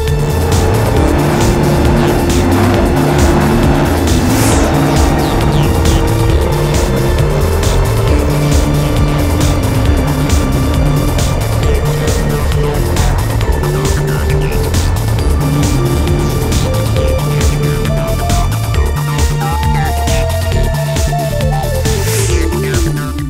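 A 46-foot Outer Limits Team Liquidator powerboat on a poker run, powered by twin Mercury Racing 1075 engines, roars loudly and steadily at high speed, with the engine pitch shifting slightly as it runs.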